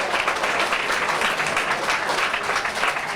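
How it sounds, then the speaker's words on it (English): A rally crowd at a Bring the Hostages Home event applauds a singer, dense continuous clapping that stays loud and even throughout. "One more round of applause for Erin"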